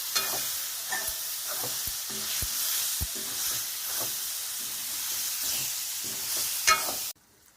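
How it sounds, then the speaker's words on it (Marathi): Tomatoes fry in oil in a pan for egg curry, a continuous soft sizzle and hiss with a few light knocks of stirring, moderately quiet, ending abruptly. "आता आपण ह्याच्यात टोमॅटो टाकूया. टोमॅटो एकदम शिजेपर्यंत भाजून घ्यायचा आहे."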